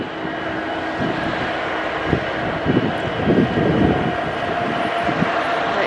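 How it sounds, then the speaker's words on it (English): A train passing at milepost 218 on a rail subdivision in winter, a loud steady rumble and roar of wheels and engine, close and continuous, with heavy low-end noise throughout. "Taking a few photos of the train."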